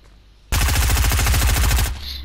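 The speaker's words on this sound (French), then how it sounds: "Tester la nouvelle arme." A new rapid-fire weapon in a video game lets off a loud, continuous burst of automatic fire lasting about a second and a half, then cuts off abruptly into a faint ringing tail.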